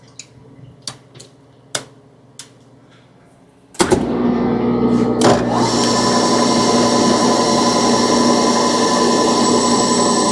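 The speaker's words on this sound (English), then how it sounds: "Let the drill bit do its job." A hand drill boring through a clamped workpiece under light pressure, preceded by a few sharp taps and clicks, then a loud, steady whining drone with a scratchy edge that runs without break to the end.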